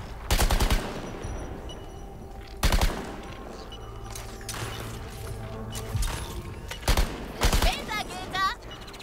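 Bursts of gunfire in the Suicide Squad: Kill the Justice League video game, several sharp volleys spaced through the stretch with a steady game background between them.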